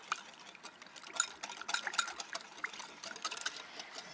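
Balsamic vinegar, honey and smoked sweet paprika whisked together in a bowl, quick light clinking and tapping strokes with a wet swish, close and fairly quiet.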